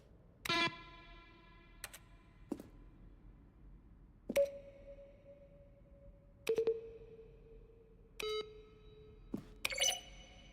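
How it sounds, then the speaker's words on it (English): Synthesized button tones from a game, built partly from keyboard strokes, play one at a time: sharp clicks and short sustained beeps at different pitches, spaced irregularly over a faint background hiss. "Button sounds, a selection of the sounds used throughout the game"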